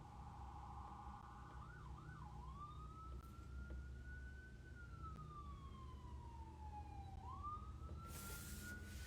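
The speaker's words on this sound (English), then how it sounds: "Ooh, loud sirens out there." A wailing siren sweeps up and down in long, slow glides over a steady low rumble of traffic, sounding some distance away.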